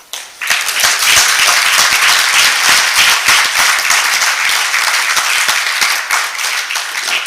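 Loud, sustained applause from the audience at a science academy fellows' induction ceremony, starting abruptly and holding as a dense, even wash of many hands clapping for several seconds.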